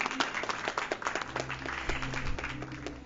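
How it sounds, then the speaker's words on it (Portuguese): An audience at a book launch talk applauds in a quiet, faint round of clapping with distinct individual claps over a low background hum, lasting a few seconds. "Salve de palmas."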